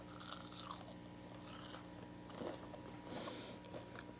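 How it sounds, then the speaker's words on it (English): Quiet, close crunching and chewing comes from someone biting into a fried eggplant sandwich, with a few crisp bites standing out over faint background hiss. "if you can just hear this crunch"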